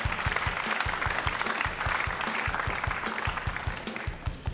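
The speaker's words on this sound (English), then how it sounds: "The applause is stilted, let's put it that way." Applause from the crowd at a professional pool match at the 2006 World Pool Championship, a steady, moderately loud patter of clapping that lasts throughout, with strong low thumps under it.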